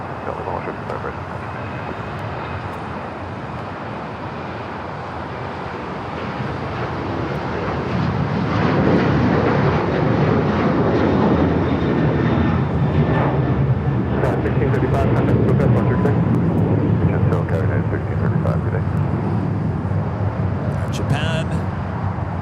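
A jet airliner takes off from runway 25 right at LAX, its engine roar building from a steady rumble to a loud, sustained broadband thrust that holds near and strong, with a radio voice speaking over it.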